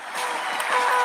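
A crowd claps and cheers in steady applause, the sound swelling slightly toward the end.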